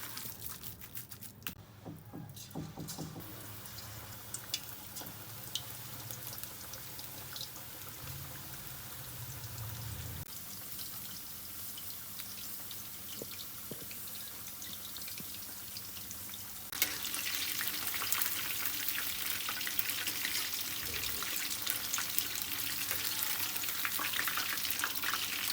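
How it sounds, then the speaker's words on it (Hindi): Chicken and vegetable pakora fry in hot oil with a steady, broad sizzle that carries on throughout and grows louder and brighter in the later part. "अब हम इसे फ्राई करेंगे।"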